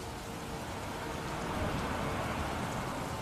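Heavy rain pours in a steady, dense roar with no break, loud and continuous throughout, with no voice over it.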